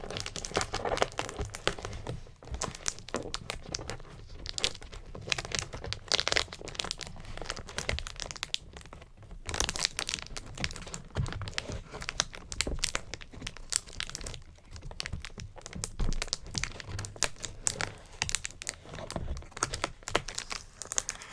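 A long brown taped cardboard box is handled and opened up close, with dense crinkling, scratching and tearing of tape and cardboard continuing steadily without speech.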